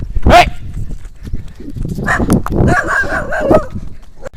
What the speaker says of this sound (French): La réalité du jogging matinal en Thaïlande, c'est se faire poursuivre par des chiens errants.